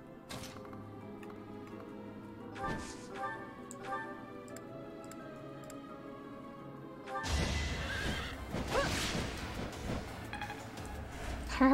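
A horse neighs in the Fire Emblem video game, a clear whinny among ticking game sounds, followed by a louder burst of clattering in-game noise.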